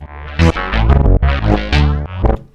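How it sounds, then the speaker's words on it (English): A synthesizer tone pushed through a Pulverizer distortion effect plays as a few gritty, buzzing notes with pitch sweeps and short gaps, loud and upfront with no voices. "maybe we do want to do a little bit of distortion to bring that under control"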